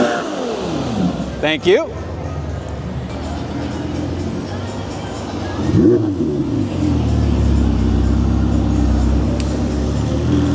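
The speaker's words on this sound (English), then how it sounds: "Get a rev. Let's hear that V12, man." V12 supercar engine revving hard at a supercar festival in Naples, Florida, with a sharp rising rev burst early and a second climbing rev midway, then a loud sustained idle rumble; a short voice speaks briefly.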